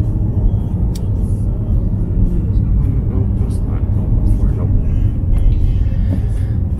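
A car driving through rain on Oahu, Hawaii, heard from inside the cabin as a loud, steady low rumble of road and engine noise, with occasional faint ticks above it.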